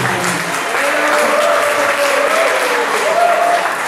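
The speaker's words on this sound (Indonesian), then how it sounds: "Kita aplaus dulu Amang Pendeta saya." An audience at an HKBP youth church opening service in Palembang claps steadily for the pastor, a dense, sustained round of applause with a voice speaking over it.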